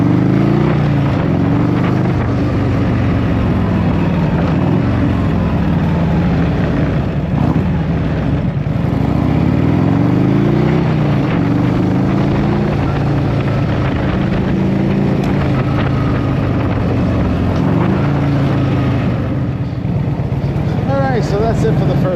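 A 1984 Harley motorcycle being ridden on its first ride in 20 years, a loud continuous engine rumble with wind noise that surges and eases throughout, close up and with no pause.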